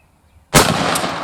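A shotgun fires a Federal TSS shell at a pattern target 60 yards out: one sharp, loud blast breaks the quiet, then a long echoing tail.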